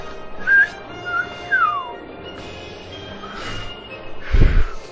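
Several short whistled chirps and a downward-sliding note from a player during Zelda: Skyward Sword, close and moderately loud, followed by breathy bursts and a low thump near the end.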